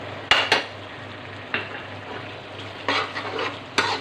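Mutton makhni karahi with heavy cream and kasuri methi is stirred in a pan, with a soft background sizzle and several sharp, close clinks and scrapes of a utensil against the metal, with no talking.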